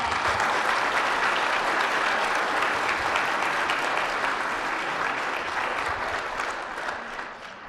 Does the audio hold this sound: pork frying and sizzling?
no